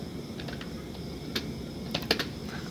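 Keys tapped on a computer keyboard in short, uneven bursts during a Python programming session, quiet and close with faint room hiss and no talk.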